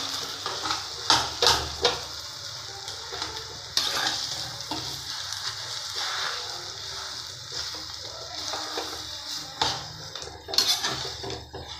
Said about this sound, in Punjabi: ਹੁਣ ਮਸਾਲੇ ਨੂੰ ਹਲਕਾ ਹਲਕਾ ਹਿਲਾ ਲੈਣਾ